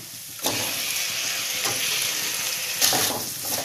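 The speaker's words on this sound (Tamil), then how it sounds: "தக்காளியும் வந்து நல்லா வதங்கட்டும்." Onions and tomatoes sautéing in a pan, a continuous broad hiss of sizzling with louder bursts as the food is stirred or turned, close and steady with no talk.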